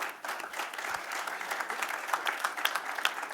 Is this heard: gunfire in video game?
no